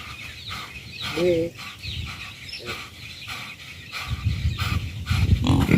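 Rooster clucking outdoors on a farm, a few short throaty calls and clucks heard near and moderately loud among background rustle and noise.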